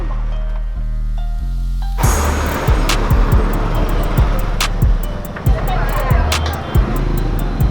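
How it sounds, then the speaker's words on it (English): Tow truck loading a broken-down rented auto-rickshaw in India: a steady low engine hum gives way to loud rumbling and repeated sharp metallic clanks and knocks at an uneven rhythm. "Let's load it onto the tow truck."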